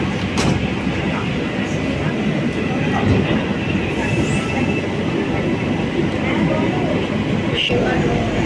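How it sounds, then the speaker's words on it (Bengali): A Kolkata Metro train runs between Sovabazar and Girish Park stations, with a steady loud rumble and rattle from inside the carriage, occasional wheel clicks and a brief squeal, and faint talk in the background. "ট্রেন ছেড়ে দিল শোভাবাজার থেকে"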